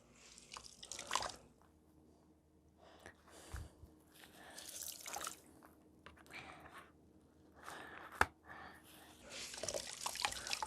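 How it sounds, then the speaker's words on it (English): Sponge pressed against wet handmade paper on a screen, giving quiet intermittent squelches, drips and trickles of water in short bursts with soft pauses between. "continue squeezing out that extra water"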